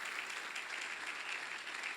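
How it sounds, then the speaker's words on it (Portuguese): Steady congregation applause in a church after a closing prayer, a dense, even clapping wash that holds at a moderate level throughout without voices. "Uma linda salva de palmas"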